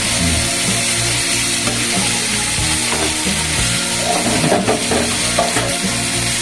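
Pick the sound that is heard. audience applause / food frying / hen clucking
food frying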